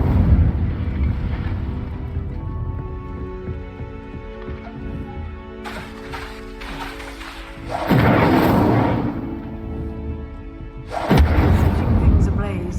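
Incendio fire spell blasts in Hogwarts Legacy, deep booming whooshes over a sustained rumbling bed, with two strong blasts later on; speech is heard alongside.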